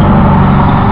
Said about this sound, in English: I'm gonna apologize for the background noise. I'm right next to a busy road.